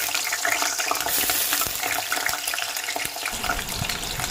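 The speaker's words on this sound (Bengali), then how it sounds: "প্রথমে আমি কড়াইতে সর্ষের তেল গরম করে নিয়েছি। এবার আমি আলুটা ভেজে নেব।" Potato pieces fry in hot mustard oil in a kadai, a dense, close, hissing sizzle with scattered pops and stirring scrapes running steadily throughout.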